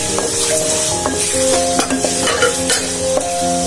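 Cleaned and cut dried fish, churi and loitta shutki, stirred and fried in a hot pan, giving a loud continuous sizzle with repeated metallic scrapes and clinks of the spatula against the pan.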